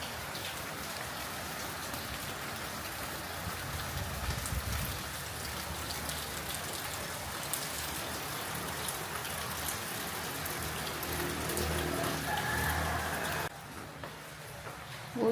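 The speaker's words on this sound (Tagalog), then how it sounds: "Kaya buti na lang umulan." Steady light rain falls on the ground on a hot late afternoon, a continuous close patter and hiss of drops on surfaces that runs without pause and softens slightly near the end.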